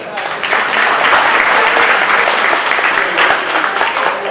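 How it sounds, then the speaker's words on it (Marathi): Sustained applause from an audience at a retirement ceremony for a deputy superintendent of land records in South Solapur, dense and steady clapping filling the hall at close range for the whole stretch. "आता फक्त त्यांच्यासाठी टाळ्यांचा आवाज होऊ दे."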